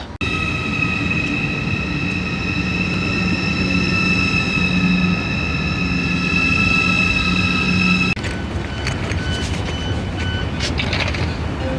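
A train arrives at a station in Germany, rumbling in with a steady roar and high whining tones, which cut off abruptly as the noise shifts to a rougher clatter.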